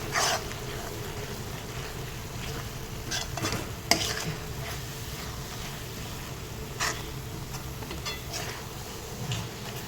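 Fenugreek leaves and gram flour are stirred in a pan, soft scraping strokes and occasional clinks of the spoon over a faint, steady background hum, fairly quiet throughout.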